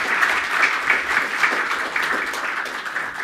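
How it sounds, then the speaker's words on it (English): Brief audience applause after a conference talk on high-performance OpenStack cloud, a moderately loud, even patter of many hands clapping for about three seconds without speech. "Round of applause."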